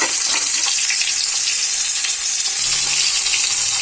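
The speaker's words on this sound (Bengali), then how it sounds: "হাতে একটু সময় নিয়ে সুন্দরভাবে মাছের মাথাটা ভেজে নিতে হবে" A large fish head frying in hot oil for a Bengali muri ghonto, producing a loud, continuous sizzle with faint stirring noises throughout.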